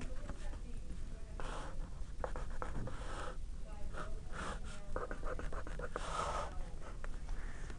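Marker strokes squeak and scratch on a board in short bursts of writing, close and clear, interleaved with pauses and soft breathing while someone talks quietly at times.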